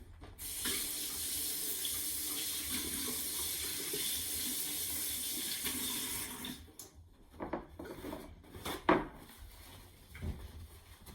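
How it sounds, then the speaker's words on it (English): Water runs steadily from a tap as hands are rinsed during meatball preparation, loud and continuous for about six seconds, then cut off and followed by scattered drips, rubbing and light handling sounds. "I'm going to quick rinse off my hands so that I don't mix any of my other ingredients together"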